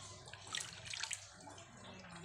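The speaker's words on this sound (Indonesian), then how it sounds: "Sekarang aku siram." Water trickles and splashes quietly onto the soil of a potted yellow variegated dieffenbachia, a faint, uneven pouring with a couple of slightly louder splashes.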